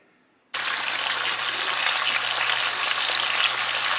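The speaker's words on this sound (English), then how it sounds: "the first step is to sear off the braised beef, just to give it a nice sear" Braised beef hits a hot pan and sears with a loud, sudden sizzle that starts abruptly and then holds as a steady, dense frying hiss close by, with no talking.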